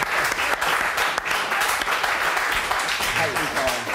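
A short ripple of applause from a small group in a football pre-match studio, steady clapping for a few seconds with voices mixed in.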